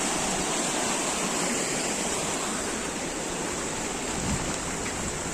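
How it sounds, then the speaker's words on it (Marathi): The flooded Narangi river near Khed in the Konkan rushes in monsoon spate, a steady, loud, unbroken roar of water that fills the whole clip without any voices. "जी आपली नारंगी नदी आहे तिलाही पूर येतो"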